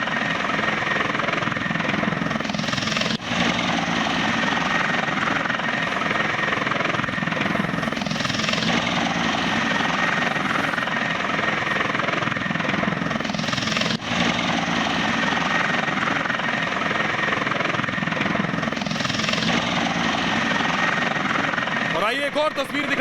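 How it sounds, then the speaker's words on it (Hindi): A helicopter carrying a politician arrives and lands at Banda, its rotor and engine a loud, steady continuous roar with rhythmic thumping throughout, with voices faintly underneath. "जिस वक्त बांदा पहुंचा योगी का हेलीकॉप्टर"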